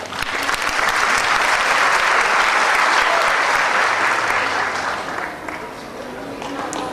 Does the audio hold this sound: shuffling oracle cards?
no